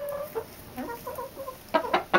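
A pet hen named President clucks and squawks inside a barn. Soft, broken clucking builds to three loud, close screeches at the end.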